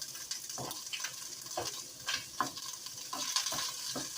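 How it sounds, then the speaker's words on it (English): Coconut egg crepe browning in hot oil, a soft continuous sizzle broken by repeated utensil scrapes and taps, faint and close with no talk. "we're going to just brown it up in the oil and lay it right on top of the meat"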